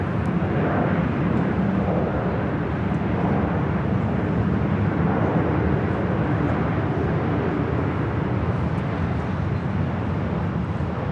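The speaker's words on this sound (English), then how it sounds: "This is Southwest Airlines 2574 coming in from Denver, Colorado on the 737-800." A Southwest Airlines Boeing 737-800 arriving from Denver lands at LAX, its steady, broad jet roar holding loud and unbroken throughout with no voices over it.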